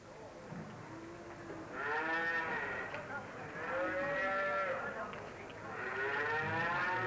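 Cattle at the Puck Fair cattle and horse fair in Killorglin, Kerry, low drawn-out moos rising and falling in three long calls, fairly close over a murmuring crowd.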